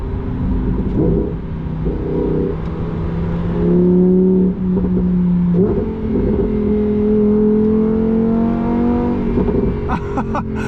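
Lamborghini Huracan Sterrato V10 accelerating in sport mode on the autobahn, a loud, continuous engine roar that climbs in pitch, drops at a gear change and climbs again, heard up close from inside without speech.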